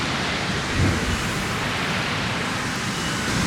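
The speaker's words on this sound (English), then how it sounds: "I'm really hoping you can even hear me right now over the sound of the waves" Ocean waves breaking on a beach, a loud continuous broadband wash with a slight swell near the start, mixed with wind buffeting the microphone and no voices.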